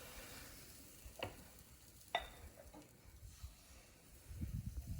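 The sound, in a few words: batter sizzling in waffle iron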